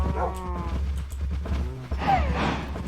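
Minecraft dogs whimpering and yipping in short, high, wavering cries over a low steady hum, fairly close and moderately loud.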